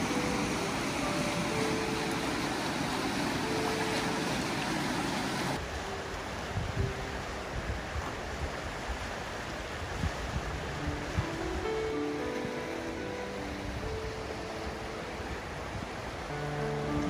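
Steady broadband rush of a swollen, fast-running river after rain, loud and continuous throughout, with no voices.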